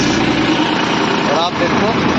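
A Massey Ferguson 245 DI tractor drones steadily and close while ploughing a field with a subsoiler, with a voice faintly under the engine.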